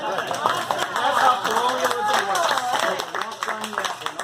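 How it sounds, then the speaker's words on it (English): An audience claps during a magic card trick performance at a small venue, uneven claps mixed with chatter and voices that carry on throughout. "And you can applaud at any time."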